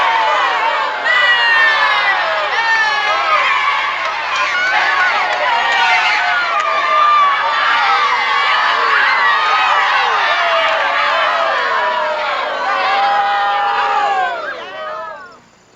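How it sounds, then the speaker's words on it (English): A large crowd roars and cheers without pause at a baseball championship game, many voices shouting together loud and close before the noise drops away at the very end. "The crowd is going wild."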